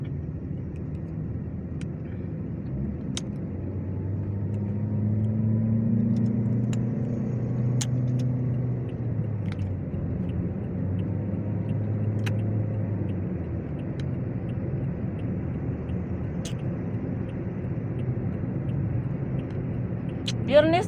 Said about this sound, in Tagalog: Matraffic dito kasi yung mga sasakyan ng mga malalaki yung lumalabas.